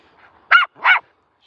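A dog at a pet-care kennel gives two quick, sharp barks close by, a short pause between them, set against faint background noise in otherwise quiet surroundings.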